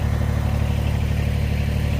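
An excavator digging out ground around a natural spring sends out a steady, loud diesel engine drone with low throbbing and faint clatter, running continuously and close with no voices.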